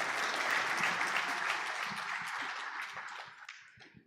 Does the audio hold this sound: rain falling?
no